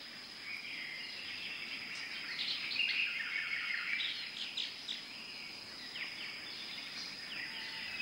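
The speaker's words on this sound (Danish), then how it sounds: "Det her er en lori-papegøje, der udfører en paringsdans." A lory parrot calls during its mating dance inside a zoo rainforest hall, a run of high chirps and squeaky whistles repeating over several seconds, moderately close, with faint insect-like background chatter and no voices.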